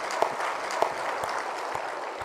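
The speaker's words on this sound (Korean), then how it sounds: "우리 살아계신 예수께 박수 쳐서 영광을 드립니다." Congregation applauding during a Sunday midday service at a Full Gospel church in Jeonju, a soft, even roll of many hands clapping with a few louder claps popping out, fairly distant and steady.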